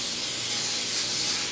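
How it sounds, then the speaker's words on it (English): Olive oil cooking spray hissing steadily as it coats a 9x13 baking pan, a continuous close airy spray lasting the whole moment with no talking. "with just regular cooking olive oil spray."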